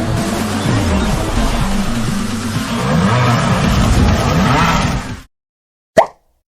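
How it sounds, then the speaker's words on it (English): Racing-game car engine roar from Asphalt 9 Legends, a loud sustained rumble with rising and falling revs for about five seconds, then a sudden cutoff and one brief short sound after a pause. "That engine roar is from Asphalt 9 Legends."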